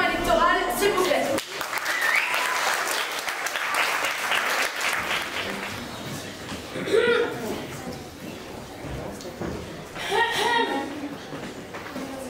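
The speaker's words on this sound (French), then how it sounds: "je vous demande un tonnerre d'applaudissements pour cette réunion électorale" Audience applause at a theatre gathering billed as an election meeting, a strong burst of clapping that fades and returns in waves, with voices and some chuckles mixed in.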